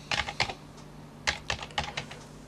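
Keys clatter on a computer keyboard as a terminal command is typed, short bursts of quiet, close clicks in two quick clusters.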